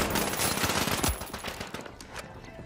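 Turret gunfire in the video game The Finals, a rapid dense stream of shots close and loud, with a heavier impact near the middle and game noise throughout.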